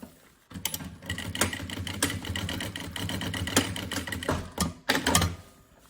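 A sewing machine stitches a backpack strap seam in a steady, fast mechanical rattle, close and loud, with brief pauses and a final burst as the seam is run.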